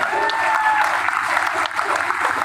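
A crowd at a political nomination event in Bihar claps steadily and densely without a break, a loud continuous wash of applause.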